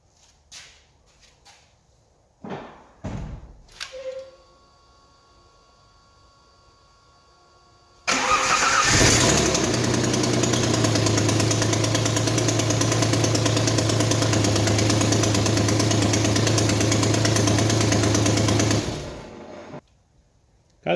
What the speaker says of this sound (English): And there we go, it started, but I think we got an exhaust leak on it